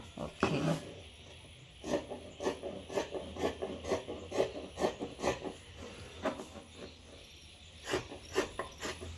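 Scissors cutting through trouser fabric, a series of short crisp snips in an uneven rhythm, close and fairly quiet with soft handling rustle between cuts.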